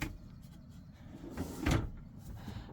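A quiet kitchen drawer in a lightweight off-road camper, a Robeta Adonia 4x4, slides and bumps shut, with a soft knock near the middle against a faint low background hum.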